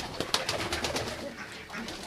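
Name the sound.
pigeons cooing leaving the loft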